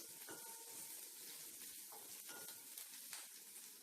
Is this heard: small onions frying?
yes